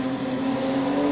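A modified production race car runs up the main straight at Carina Speedway, its engine a steady, sustained drone with a strong low hum throughout, loud and continuous with no voices.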